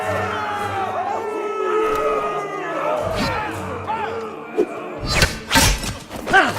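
In a Game of Thrones video game, an arena crowd roars and shouts steadily under voices, with heavy thuds and clashing impacts growing louder toward the end.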